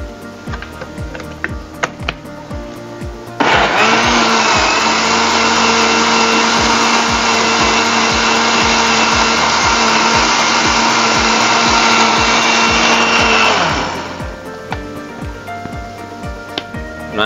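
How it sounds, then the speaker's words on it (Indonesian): A blender starts abruptly and grinds chili sambal for chicken noodles in a loud, steady whirring roar for about ten seconds, then winds down, with softer kitchen sounds before and after. "Nah, ini blenderan yang terakhir"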